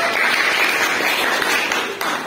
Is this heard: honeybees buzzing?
no